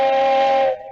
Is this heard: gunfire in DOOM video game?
no